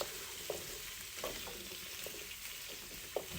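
Onions and other vegetables sautéing in oil make a quiet, steady sizzle with a few soft clicks of a utensil stirring the pan.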